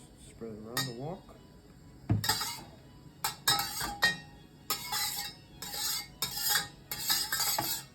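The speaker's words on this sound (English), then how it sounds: "Just spread it around the wok." A utensil scraping and clanking against a wok as oil is spread around it before cooking a Cantonese tomato and egg stir fry, with a run of close, sharp metallic scrapes and clinks coming in irregular bursts.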